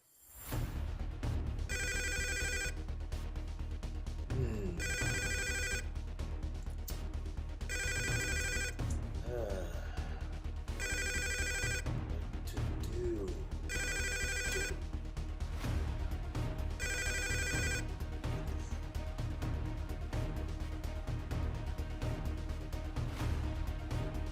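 Repeated trilling phone rings in a video game, seven short bursts at a steady pace over a continuous bed of game music and background sound, with no talking.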